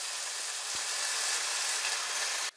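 Seasoned chicken pieces sizzle steadily in a hot pan, a loud, even frying hiss that holds throughout before cutting off abruptly near the end.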